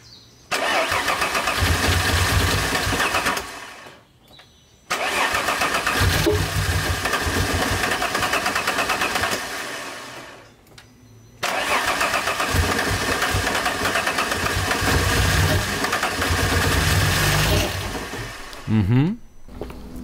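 An Alfa Romeo 156 GTA V6 is cranked and fired up three times, settling each time into a loud, close, slightly uneven idle, with short silences between runs and a voice briefly heard.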